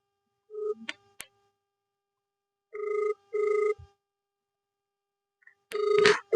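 An electronic phone ring sounds in short repeated bursts with silent gaps between, loud and clear, with a brief click and no voices.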